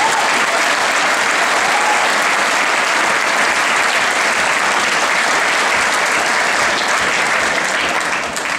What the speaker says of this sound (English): So how about a round of applause from our students, our parents.